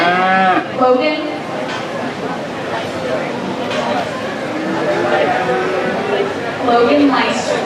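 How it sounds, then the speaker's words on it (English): Cattle at a dairy and beef livestock show, with cow-calf pairs in the ring, moo repeatedly in long low calls, loud and near, over a steady background of crowd chatter and an announcer's voice. "Now entering the ring is our cow-calf pair class."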